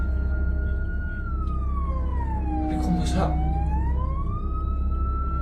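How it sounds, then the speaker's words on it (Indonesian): A wailing ambulance siren sweeps up and down and holds loud and steady throughout, with a person talking briefly over it midway. "pakai ambulans sama sirenenya tuh dibunyiin gini cuy"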